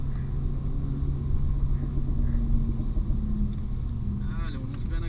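Renault Mégane 4 RS pulling hard on the Magny-Cours circuit, a steady droning engine rumble heard from inside the car, with a coach's voice speaking over it.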